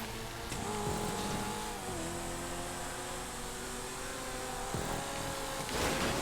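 A race car engine in GTA 5 drones steadily on a race track, its pitch rising and falling through gear changes and throttle lifts, loud and continuous with no talk.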